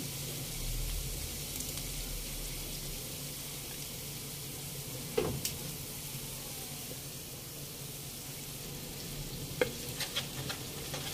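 Bagoong being sautéed in a pan while cooking dinengdeng, a steady low sizzle and frying hiss running throughout, with a couple of sharp utensil clinks against the pan near the middle and end.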